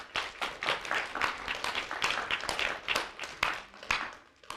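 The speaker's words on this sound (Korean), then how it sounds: "서로에게 박수를 좀 쳐줄까요?" A roomful of students at a midday university chapel service claps for one another, a steady, moderately loud patter of many hands lasting several seconds with no talk over it.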